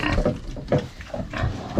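Young piglets weaned from the sow grunt in a farm pen, a close series of short, loud, overlapping grunts and snuffles.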